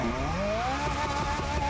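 A Ferrari 458 engine in a racing game, a steady high-pitched revving whine that climbs in pitch as it accelerates, loud and continuous with no talking.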